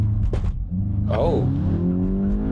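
Interior view of a 2021 VW Golf GTI MK8 accelerating hard, the engine note loud and rising through the rev range, with a brief rumble before the pull and a shift partway through.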